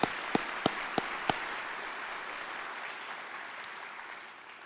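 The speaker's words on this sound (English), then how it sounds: "Let's give them all a round of applause." Audience applause at a city's State of the Address event, for the mayor's family: a few sharp distinct claps open, then a broad steady wash of clapping from a crowd that slowly fades.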